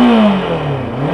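A Bristol Venturi 500 adventure motorcycle engine revs up close, its pitch rising and then sliding down in one loud throttle blip lasting just over a second.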